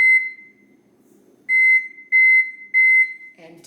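Kitchen timer for a baking carrot cake, a sharp electronic beep that sounds once, then returns in a run of three loud evenly spaced pulses, close and clear with nothing else under it.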